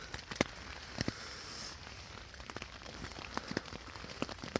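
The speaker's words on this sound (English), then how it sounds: "It's continued to pour down all night." Steady overnight rain patters on a surface nearby at a wild campsite, with scattered sharper drops ticking irregularly over a constant soft hiss.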